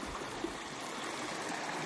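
River water streaming steadily in a natural hot spring area, a continuous close broadband rush with a soft trickle, constant and unbroken with no voices.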